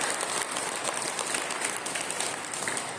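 Audience applause at a church testimony gathering: dense, sustained clapping from a crowd throughout, steady and moderately loud with no voices standing out.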